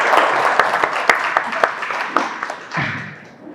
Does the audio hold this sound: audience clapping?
yes